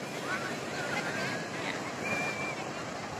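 Steady surf rolls in at Jetis beach in Cilacap, a continuous wash of moderate waves mixed with wind rumbling on the microphone, with no one speaking.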